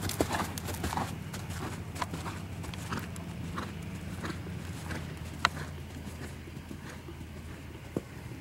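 Horse hooves clip-clopping in a steady cantering rhythm on an arena surface during a riding lesson, moderately close with occasional louder footfalls and faint background noise throughout.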